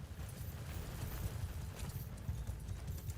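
Horses move across the ground in Mount & Blade Bannerlord, a steady low, soft clatter of many hooves continuing throughout, fairly faint and distant beneath a battlefield ambience.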